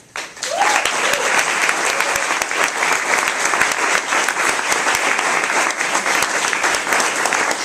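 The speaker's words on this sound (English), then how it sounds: "When I call your name, will you just stand and you can applaud for each one." An audience at a civic engagement recognition ceremony applauds a named participant. The clapping swells quickly after a brief quiet start and then holds as steady, dense applause from a moderately sized crowd.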